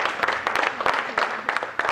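An audience at a book launch in Cape Town claps in a short burst of applause, the claps dense and overlapping at fairly close range.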